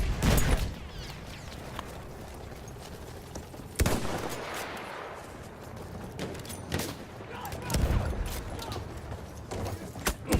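A grenade thrown by British Army troops bursts amid World War I combat in Battlefield 1, a sharp crack followed by a long rumbling tail, set among scattered gunshots and battle noise, with voices shouting in the clip.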